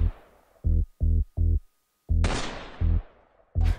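Sharp bursts of gunfire crack out twice, between repeated short, low, buzzing pulses that start and stop in an even rhythm.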